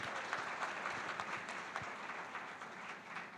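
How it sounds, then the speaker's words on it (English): Sustained audience applause fills a room at a business awards ceremony in Mumbai, steady dense clapping from many hands throughout without a break. "do you want to do one more clapping for Miss Aditi there?"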